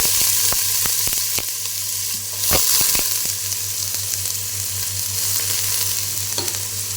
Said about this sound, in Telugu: ఆయిల్ కాగిన తర్వాత ఉల్లిపాయలు అయితే వేసేయండి